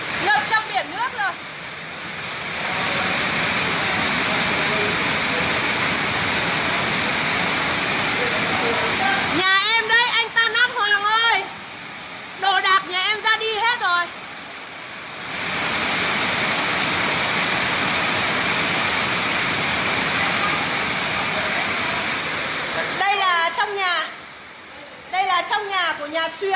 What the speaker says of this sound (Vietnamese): Nhà xưởng thì ngập trong biển nước rồi.